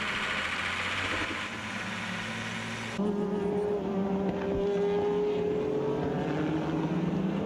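Peugeot Le Mans Series race cars at the 2008 Catalunya 1000 km, engines roaring steadily at a distance, then a higher sustained whine as a car passes, with no talk.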